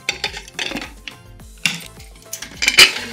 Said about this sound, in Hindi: अब चलना इसको हम गैस पे रखेंगे